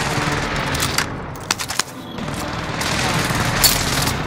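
Rapid gunfire rattles through a shooter video game, a loud, dense run of shots with a couple of sharper single reports in the middle, while players talk over it.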